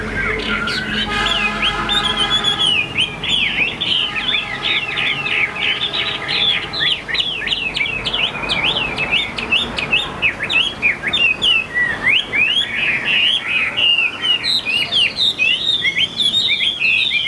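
A Chinese hwamei songbird with an ivory beak sings a loud, close, continuous stream of rapid whistled phrases and trills, with fainter chirps and clucks behind it.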